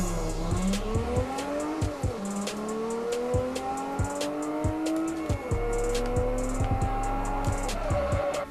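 A Nissan Skyline driven in the Forza video game revs hard through repeated gear shifts, its engine note rising and dropping, with sharp tire squeals and skids cutting in, loud and close.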